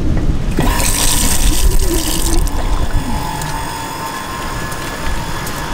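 Water running from a tap into a sink at a rustic campsite in southern Dagestan, a steady loud splashing rush that starts abruptly and continues throughout, with no talking.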